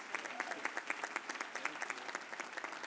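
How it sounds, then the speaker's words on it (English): An audience at a Harvard Medical School class day ceremony applauds steadily, many hands clapping in a dense, lively patter heard at moderate loudness throughout. "Let's give him a round of applause."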